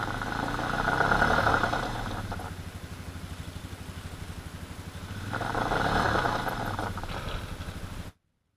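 Vehicle engine running while stuck deep in mud, a steady low rumble that swells twice into louder revving surges, then cuts off abruptly.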